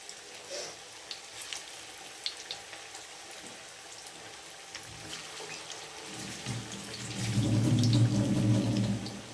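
Raw banana and beef kebabs fry in a large pan over a low flame, a soft sizzle with light clinks that swells to a louder, denser frying crackle near the end.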